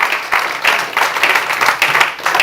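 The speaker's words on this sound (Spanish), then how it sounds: "Y ahora dele ese fuerte aplauso al Señor." A congregation at a church service applauds loudly and steadily, many hands clapping in a dense rhythmic wash that holds evenly without any talking.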